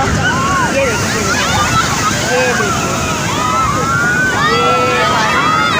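Strong sea waves surge and slosh loudly and continuously at Turtle Beach, Karachi, under a busy mix of voices and shouting from beachgoers.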